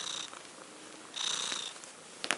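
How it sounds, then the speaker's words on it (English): A friendly Siamese cat purrs close up in a house, a soft breathy rumble in two swelling bursts with a brief click near the end. "This cat is really friendly. She's a very friendly cat. It's a Siamese cat."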